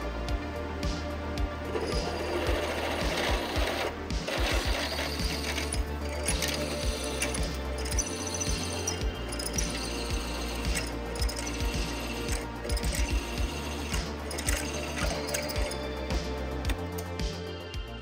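A drill press bores a hole up to 3/8 inch through a wing strut truss part for a Rans S-21 aircraft, giving a steady, loud mechanical whir with gear-like rattling that runs continuously throughout, with no talk.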